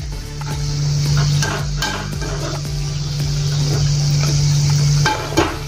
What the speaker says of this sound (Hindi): ऐसे पलट पलट के इसको तलना है